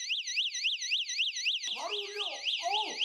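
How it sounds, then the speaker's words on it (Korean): A burglar alarm goes off from a window security sensor when the window is opened, a loud, piercing electronic siren warbling in fast, regular sweeps, with a second lower warbling tone joining partway through. "문을 열면 센서를 통해 바로 경보음!"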